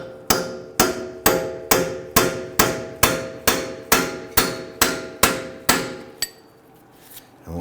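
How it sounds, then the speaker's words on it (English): A hammer strikes a heavy-duty punch set against a stuck CV axle on the rear left of a 2010-2019 Ford Taurus, trying to free it from the wheel hub splines: about a dozen loud, evenly spaced metallic blows, then one last lighter tap. "So you want to use a heavy duty punch"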